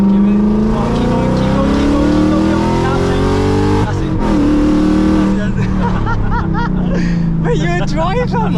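A straight-piped Audi S4 roars loudly from inside the moving car, the engine revving up through long rising pulls, dipping briefly on a shift, then climbing again with crackling, popping exhaust near the end; voices talk over it.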